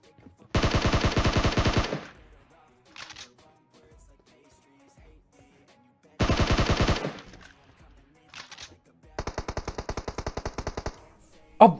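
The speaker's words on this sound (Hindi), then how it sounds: "अब उधर पे चल रही होती है दबा के गोलियां दोबारा।" Loud bursts of rapid automatic gunfire in the video game PUBG Mobile, two long volleys and a rattling third, separated by short pauses with a few isolated shots.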